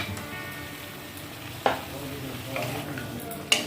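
Chillies, about ten cashews and other ingredients are stirred in butter in a pan for butter chicken: a soft sizzle under a couple of sharp spatula clinks against the pan.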